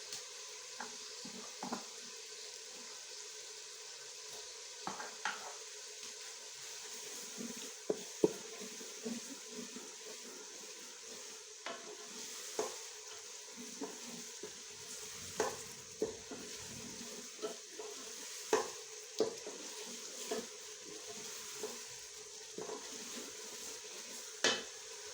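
Ginger-garlic paste masala with ground coriander frying in a pot for paya gosht, giving a steady low sizzle broken by regular spoon scrapes and clinks throughout.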